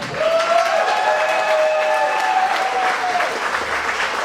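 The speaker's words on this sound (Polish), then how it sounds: "Wielkie brawa dla nich" A festival audience applauds a Lublin family orchestra of musician families at Kazimierz Dolny: steady dense clapping for about four seconds, fairly close, with faint voices and tonal sounds running through it.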